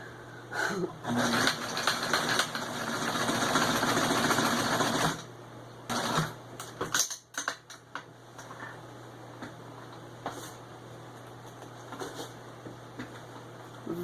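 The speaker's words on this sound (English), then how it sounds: "sew it together. It's kind of fiddly for sure, but I prefer this to hand sewing." A sewing machine stitching a pillow insert for stuffing crochet projects runs in a loud steady burst, then stops and restarts in short stitches, with a speaking voice faintly present.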